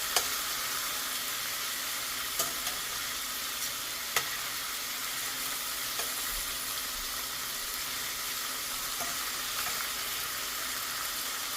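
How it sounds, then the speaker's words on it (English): Chicken thighs frying in a heavy skillet give a continuous, even sizzle, with a few faint clicks and scrapes as a spatula shifts the meat around; no voices. "Since the skillet is heavy, I cannot really shake it. So I just need to move with spatula."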